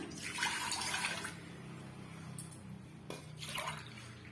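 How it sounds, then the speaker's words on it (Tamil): Water pours into a cooker in two bursts with a hissing splash, a pause between them, close by and fairly loud. "அதே கப்பால மொத்தமா நான் 6 கப் அளவுக்கு நான் தண்ணி சேர்த்துக்கிறேன்"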